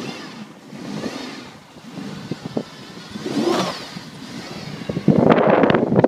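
A car on snow tires pulls away through snow, its engine rising as it accelerates under wind buffeting on the microphone, ending in a loud gritty rush of tires churning through snow.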